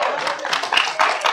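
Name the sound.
audience clapping at city council meeting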